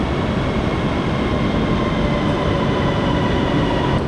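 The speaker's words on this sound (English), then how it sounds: "I'll wait for the train to actually arrive" A train pulling into a station in Guangzhou, China, a loud continuous rumble of rolling carriages with a steady mechanical drone and faint wheel hiss, no voices.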